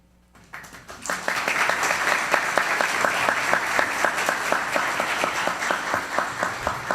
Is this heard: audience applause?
yes